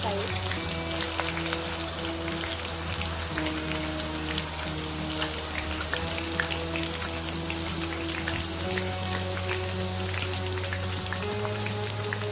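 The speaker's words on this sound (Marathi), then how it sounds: "छान गोल्डन कलर येईल तोपर्यंत तळून घ्यायचा आहे" Raw banana slices deep frying in hot oil for banana chips, a dense, constant crackling sizzle like steady rain that stays close and even throughout.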